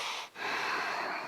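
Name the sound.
heavy breathing during ring exercise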